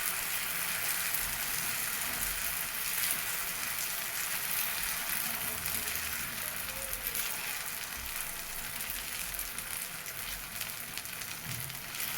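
Rava uttapam batter sizzles on an oiled hot pan, a steady, soft hiss of frying that holds evenly throughout with no voices.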